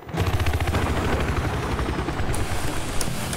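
A helicopter in the Battlefield 4 video game roars with a loud, steady rotor chop, and gunfire bursts and game sounds mix in the background.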